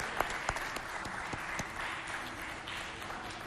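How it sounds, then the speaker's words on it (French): Studio audience applause for two guests on a health and sport talk show, a nutritionist among them; a few distinct claps at first, then a softer, steady wash of clapping, moderately distant. "Applaudissez pour nos deux invités"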